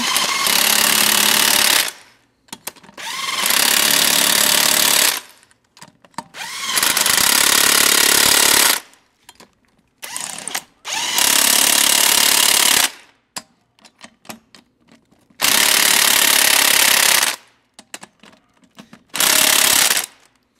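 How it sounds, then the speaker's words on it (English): Loud power tool, likely an impact wrench, fastening the last tire back onto a Jeep during rear axle repair, running in several long bursts of two to three seconds separated by short quiet pauses and brief rattles. "Alright, we're just putting the last tire back on."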